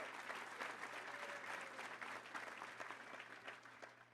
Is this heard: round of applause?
yes